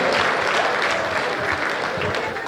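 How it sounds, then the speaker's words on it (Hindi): Audience applause for a poet at a Hindi poetry gathering, a steady, moderately loud wash of clapping that runs unbroken through the whole stretch. "जोरदार ताली बजाइए"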